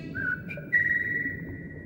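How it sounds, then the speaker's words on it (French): A person whistles a few short, clear notes, then holds a longer steady tone over faint background noise. "Au fait, tu sais siffler?"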